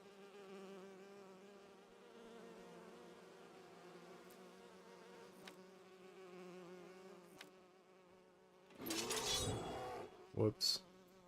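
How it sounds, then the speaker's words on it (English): Bees in the fantasy game Enderal hum in a low steady drone for several seconds, then sharp loud bursts of noise and clicks break in near the end. "And some bees."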